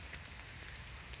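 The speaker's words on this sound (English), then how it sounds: "I didn't really get anything in this segment other than a lot of rain sounds." Heavy thunderstorm rain in Tarrant County, Texas makes a dense, steady hiss and patter on surfaces all around, with no gaps and no thunder.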